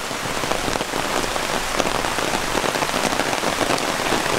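Steady, dense rain patters on a surface at Bougenville park on Mount Puntang, a continuous hiss of drops with no voices.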